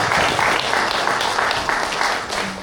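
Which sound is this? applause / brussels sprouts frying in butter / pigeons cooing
applause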